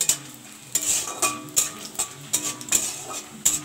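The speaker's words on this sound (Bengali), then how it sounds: "দেখো বড়িগুলো লাল লাল করে ভাজা হয়ে গেছে" Lentil dumplings (bori) frying in a pan, heard as a close, steady sizzle punctuated by repeated scraping and clinking of a spatula against the pan while stirring, with no talking.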